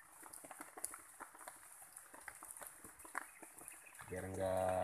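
Rain drips in a forest, scattered taps and patters at close range over a steady wet background, with a louder tonal sound rising near the end.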